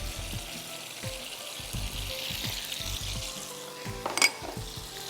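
Soy sauce is added to a hot pan for orange chicken sauce, giving a sizzling hiss with repeated clinks and scrapes of stirring, moderately quiet.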